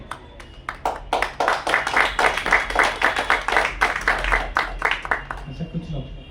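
An audience clapping at a preaching gathering, steady rhythmic claps in unison at a moderate pace, close and fairly loud, fading out near the end as a voice begins.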